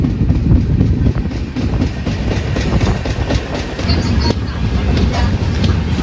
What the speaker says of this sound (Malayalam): പ്ലാറ്റ്ഫോമിൽ നിന്ന് എടുത്തപ്പോൾ തന്നെ നല്ല സ്പീഡ് കയറി വണ്ടി